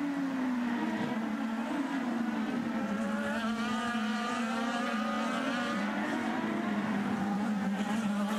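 IndyCar race cars at Long Beach, a loud sustained engine whine that bends gently in pitch as cars accelerate and downshift into a corner, with a continuous dense roar of several cars together.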